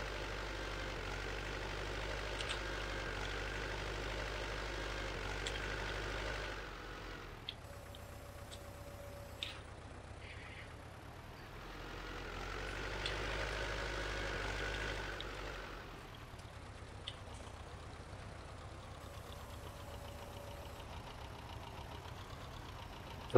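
A T-40 tractor in Farming Simulator 19 drones steadily while pulling a PLN 3-35 plough, its engine hum rising and falling in long swells over about twenty seconds, fairly faint with no talk.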